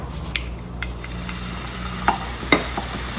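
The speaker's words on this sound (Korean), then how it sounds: "다진 소고기를 이렇게 막 볶아주세요." Minced beef stir-fries in a pan while being cooked down for a Korean gochujang sauce, a soft sizzle broken by a few sharp scrapes and clicks of a utensil against the pan, with no talking.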